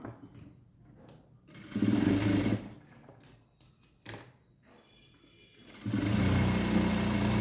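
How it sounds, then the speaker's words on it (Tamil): An electric sewing machine stitches a straight seam in bursts, loud steady whirring runs of a second or two separated by quieter pauses of handling fabric. "ஒரு கால் இன்ச்சில் ஒரு தையல் ஓட்டிட்டோம்"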